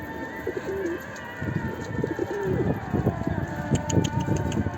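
A pigeon coos in low repeated calls close by, mixed with rustling and movement sounds through the stretch.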